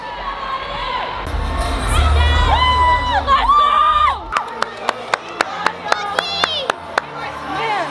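A crowd at a cheerleading competition in Palm Springs cheers with loud shouts and whoops, then the noise drops to a series of sharp, evenly spaced claps.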